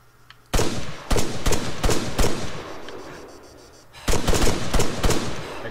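Machine gun fire in the video game Arma 3: repeated sharp automatic bursts, loud and close, with a lull in the middle before another rapid volley.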